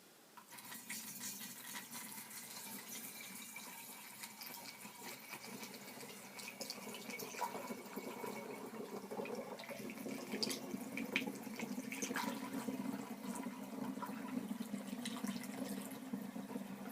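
Apple juice for apple pie hard cider streams through a funnel into a glass gallon jug, a faint, steady trickling pour that grows fuller and slightly louder as the jug fills.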